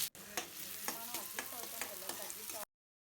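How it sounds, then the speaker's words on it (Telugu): Finely chopped onions hit hot oil in a kadai and fry with a steady broadband sizzle, punctuated by several spatula stirring scrapes, before cutting abruptly to silence. "ఆయిల్ వేడైపోయింది. ముందుగా సన్నగా తరిగిన ఆనియన్స్ వేసేసుకుని"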